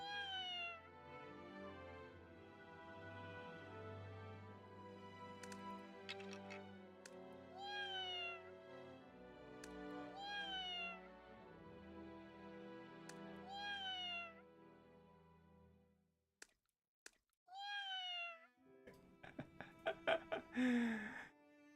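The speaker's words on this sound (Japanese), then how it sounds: "Kitten meowed at me." Kitten meowing in a Ming dynasty-set video game, a string of repeated high, rising-then-falling mews in a rhythmic series over soft background music, followed by short scratchy noises.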